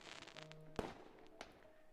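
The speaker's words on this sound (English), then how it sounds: "The loud sound of a firework going off makes both of us jump." A single firework bursts in a visual novel game, a sharp loud crack near the middle with a brief ringing tail and a smaller pop after, over quiet background music.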